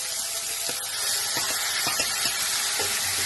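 Chopped onions and green chillies hitting hot oil in a pan, a continuous loud sizzle and crackle with a few soft stirring knocks.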